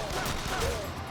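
Rapid, muffled gunfire from the Yakuza Kiwami video game rattles on without a break, partly under someone talking.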